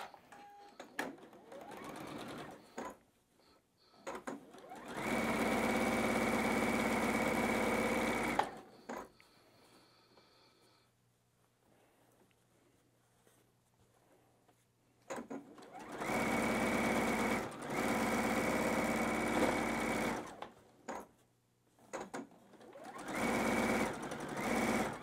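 A sewing machine runs a quarter-inch seam through batik quilt block fabric in two long, steady bursts of loud whirring stitching, separated by a quiet pause with faint handling noise.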